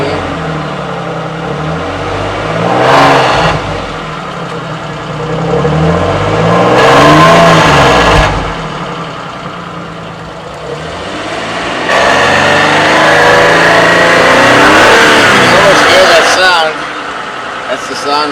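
Suzuki Grand Vitara V6 with a free-flow exhaust conversion revving repeatedly, loud rising and falling engine roars over a rumbling idle, close by, with people talking around it.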